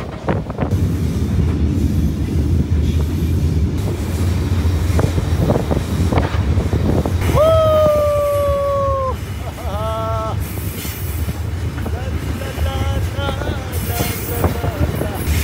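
A loaded Mauritanian iron ore freight train rumbles steadily across the Sahara, with a constant heavy roar and wind buffeting, broken midway by a few sustained wheel squeals and whining tones.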